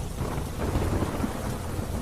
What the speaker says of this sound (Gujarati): સવારના સમયે હજુ પણ ઝરમર વરસાદ યથાવત છે।